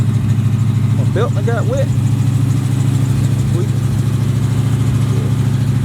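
A Chevy box car engine idles on racing gas with a loud, steady, lumpy rumble that continues throughout while someone talks briefly over it.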